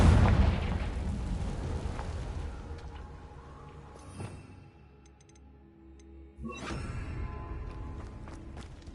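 A blasting spell explodes in a Hogwarts video game with a loud opening boom that rumbles and fades over several seconds, then a second burst of blast noise rises near the end.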